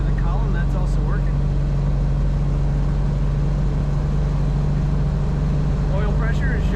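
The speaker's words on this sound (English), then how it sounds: "It's nice and quiet till you get on the throttle, then you can hear that rumble a little bit" A 1950 Mercury six-passenger coupe street rod engine, steady low idling rumble close by, with a person talking over it.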